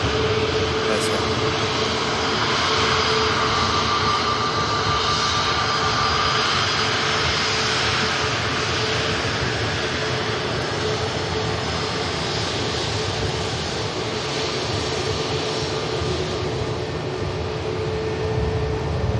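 A Jet2 airliner roars continuously on departure at Manchester Airport, a broad, loud engine rumble that holds steady throughout with no talk over it.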